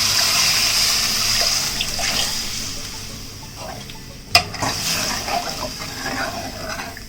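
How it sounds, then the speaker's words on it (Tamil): Water pours steadily into a cooking pot for bisibelebath (sambar rice), a continuous splashing trickle with one sharp clank midway, no talk. "தேவையான அளவுக்கு தண்ணீர் ஊற்றணும்."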